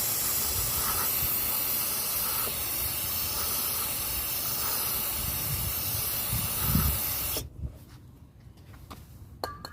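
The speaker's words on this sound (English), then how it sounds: "When you spray, let it sit a little bit." Cleaner hisses in a continuous close spray onto 2008 Toyota Sienna minivan air filter parts, then stops abruptly, leaving faint handling clicks.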